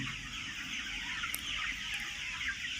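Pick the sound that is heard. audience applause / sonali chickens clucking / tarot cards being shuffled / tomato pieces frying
sonali chickens clucking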